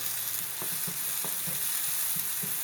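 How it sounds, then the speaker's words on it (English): Onions sautéing in olive oil in a pan while making sausage gravy: a continuous bright sizzle with soft, regularly spaced stirring scrapes, close up and without talk. "Onions smell good anyway when you sauteing onions."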